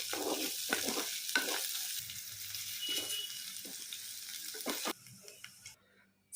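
Okra pieces frying in oil with salt, a continuous bright sizzle with occasional stirring knocks, fading abruptly toward near silence at the end.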